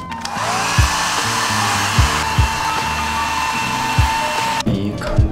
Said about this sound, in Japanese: これ硬いからちょっとドライヤーでやりましょう